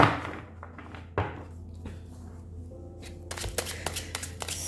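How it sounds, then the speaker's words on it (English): Tarot cards shuffled by hand, a soft riffling flutter with a few sharp taps and thumps of the deck, quiet and close with no talking. "let's get shuffling."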